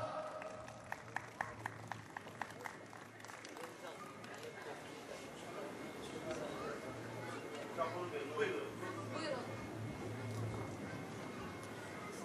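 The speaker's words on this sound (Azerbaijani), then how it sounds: "Alqışlarınızla." Festival audience applauds a singer being welcomed on stage at a 2013 summer festival, clapping that builds into a sustained, moderately distant wash beneath a presenter's voice.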